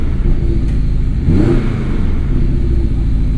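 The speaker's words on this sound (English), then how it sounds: "Definitely has a much throatier idle. Comes to life right away, of course, and it definitely has some meat behind the exhaust." An MTM-tuned 2017 Porsche 718 Boxster S with PDK idles with a deep, throaty exhaust rumble, then gives one quick rev blip near the middle before settling back to a steady idle, loud and close.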